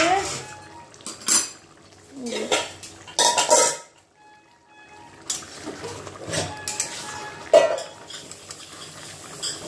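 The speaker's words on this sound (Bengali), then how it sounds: "এখন ঢাকনাটা খুলে দেখি, হয়েই গেছে মনে হচ্ছে" A lid comes off a pot of potato posto curry, then a spoon stirs it with several loud metallic clanks and scrapes separated by quieter pauses and faint voice sounds.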